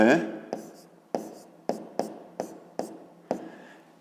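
A pen writes on paper in a math lesson, giving a run of short scratchy strokes spaced roughly every half second, close and fairly clear. A voice is heard briefly at the start.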